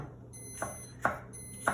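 Three sharp electronic beeps from a candy thermometer, spaced about half a second apart, clear and close, over a faint steady hum.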